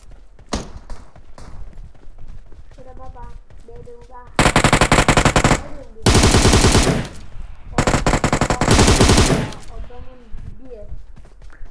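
M416 rifle firing full-auto in a video game: several loud sustained bursts of rapid gunfire separated by short pauses, with a player talking in between.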